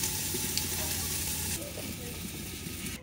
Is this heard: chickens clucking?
no